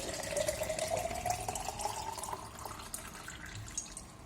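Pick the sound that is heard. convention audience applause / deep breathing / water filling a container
water filling a container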